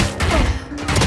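Valorant gunfire in a tense 2 vs 1 round, a quick cluster of sharp shots and impacts, loud and close, packed into about a second of game sound.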